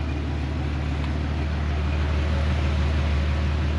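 Jeep WJ fitted with SVT Raptor shocks crawling up an off-road obstacle, a steady low engine rumble with constant broadband noise throughout, no distinct revs or bangs.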